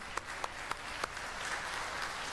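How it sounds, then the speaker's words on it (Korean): A church congregation at a Korean retreat applauds with a few sharp claps at first that swell into steady, dense clapping, heard at moderate distance. "하나님께 영광의 박수 올리겠습니다."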